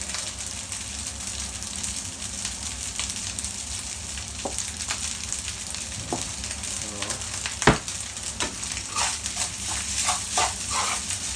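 Fried rice seasoned with pepper and salt sizzles steadily in a hot pan, a continuous close hiss broken by scattered sharp scrapes and clicks of stirring, with no talking.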